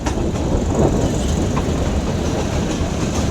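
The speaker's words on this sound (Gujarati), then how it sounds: "વિસાવદરથી ટ્રેન ઉપડી ગઈ છે." A Gir passenger train rolls along after leaving Visavadar, giving a steady, loud rumble of carriages with faint rhythmic wheel clatter throughout and no voices.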